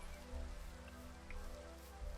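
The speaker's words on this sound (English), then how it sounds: "It is daytime but raining." Rain falling in the Minecraft video game, a faint, even patter of drops held under a steady low hum, continuous throughout without voices.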